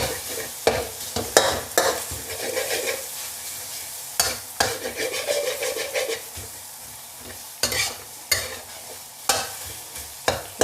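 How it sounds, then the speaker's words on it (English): Egg and light soy sauce being stirred in a pan for Thai fried rice, with repeated sharp scrapes and knocks of a utensil over a steady background sizzle, close and fairly loud, no talking. "Light soy sauce, about 2 teaspoons as well. Mix together. Stir it until the egg cooks."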